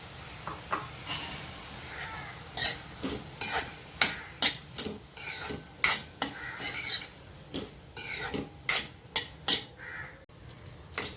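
A spoon scrapes and stirs tempered leftover rice with softened tomato and chutney in a pan, giving a steady run of rhythmic metallic clinks and scrapes over a faint sizzle.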